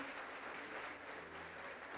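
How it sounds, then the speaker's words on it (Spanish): A church congregation gives a brief round of applause of gratitude during a worship service, a dense, faint, even patter of many hands heard from some distance. "te damos un fuerte aplauso de gratitud"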